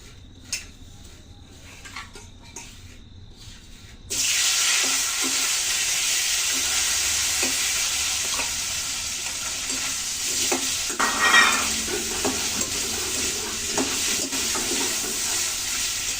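Tengra fish dusted with turmeric hit hot oil and burst into a loud, steady sizzle after a few seconds of quiet kitchen clatter, the frying holding strong with occasional crackles and pops.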